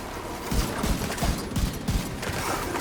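Gunfire in the video game The Division 2, a series of sharp shots fired in quick uneven bursts, moderately loud over a constant game backdrop, with no voices.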